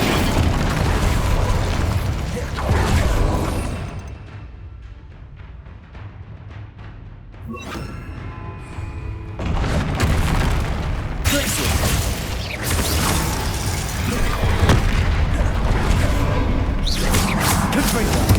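Bombarda and Confringo spell blasts in the Hogwarts Legacy video game: repeated heavy booming bursts, loud and close, separated by a brief quieter lull, with a character's voice shouting over the explosions.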